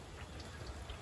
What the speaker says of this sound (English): It's a rain, and it's a kind of a cold rain.